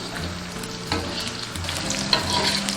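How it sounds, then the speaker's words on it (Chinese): Eggplant deep-frying in oil heated very hot over high flame, a steady close sizzle and crackle with bubbling bursts throughout, no voices. "油温烧至6、7成热，下入茄子炸"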